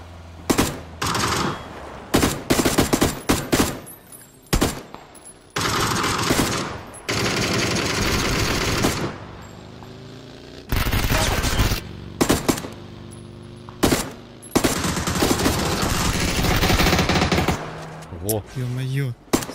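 Bursts of automatic gunfire from the video game PUBG Battlegrounds, loud and close, firing in repeated rapid volleys with brief gaps between them, while a voice talks at moments.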